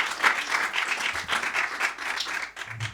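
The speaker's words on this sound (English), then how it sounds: "Can we have a big round of applause, please, for Jure?" An audience at a design, code and music talk claps steadily in dense, continuous applause for a few seconds, fairly close with no speech over it.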